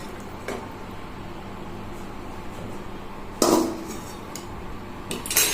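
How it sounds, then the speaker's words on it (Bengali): Fish curry is moved into a serving pot, with metal and ceramic clinks of a spoon against cookware over a quiet room, one sharp clatter in the middle and a couple more near the end. "এবার আমি এটাকে একটা পাত্রে নামিয়ে নেব।"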